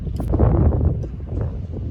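Low, rumbling wind buffeting the microphone for a couple of seconds, steady and close with no voices.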